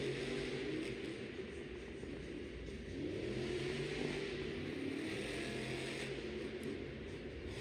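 A monster truck engine at a Monster Jam event in Syracuse, New York, rumbles and revs in a continuous low roar, fairly distant and steady throughout.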